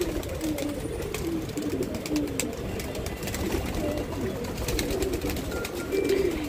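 Three pigeons cooing while bathing in the rain, soft repeated low coos close by over a continuous patter of falling rain.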